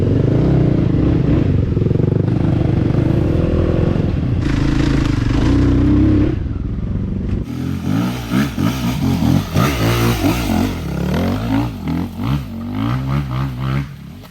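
A heavy ADV motorcycle labours up a steep, wet, leaf-covered forest road, its engine loud and close, revving and straining with rising and falling pitch and some clattering.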